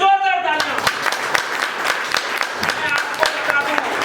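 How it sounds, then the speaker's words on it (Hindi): Loud applause from an audience at a leaders' meeting, a dense sustained run of clapping that follows a brief opening tone and continues for several seconds. "एक बार जोरदार तालियां।"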